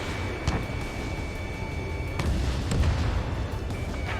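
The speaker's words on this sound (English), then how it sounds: "They've got their anti-air guns aimed right at us." Anti-aircraft gunfire and explosions in the combat flight game Ace Combat 7, heavy rumbling booms and sharp bursts layered over a constant roar, loud and dense throughout.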